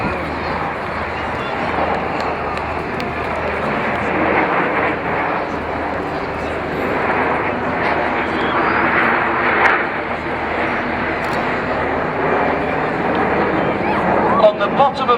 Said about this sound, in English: On the bottom of the formation with the white smoke is the first of our first-year pilots, Red 4, Flight Lieutenant James McMillan.